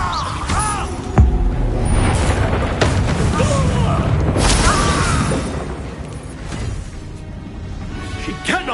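Confringo spell explosion in the PS5 game Hogwarts Legacy, a sharp booming blast followed by rumbling crashes and battle noise, with spoken voices over the combat.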